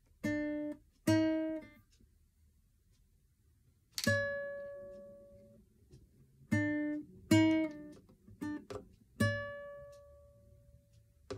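Isolated musical notes and chords ring out one at a time with gaps between them, each struck cleanly and left to decay, forming a seventh interval in a slow, quiet sequence with no speech.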